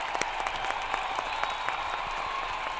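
Crowd applause at a Macedonian political rally, a steady dense wash of clapping with scattered sharper claps, moderately loud and continuous throughout.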